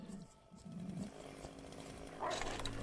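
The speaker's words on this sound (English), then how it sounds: "Hear a chainsaw too." A chainsaw in the Doom video game revs and buzzes at a moderate distance, a rough droning whine that swells near the end amid other game sounds.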